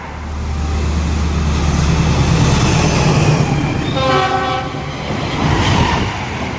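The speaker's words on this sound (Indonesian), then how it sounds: "Dua kereta super ngebut papasan ya." Two fast trains pass each other close by in a loud, sustained roar with rhythmic clacking of wheels, and a train horn sounds briefly partway through.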